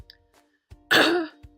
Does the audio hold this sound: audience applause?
no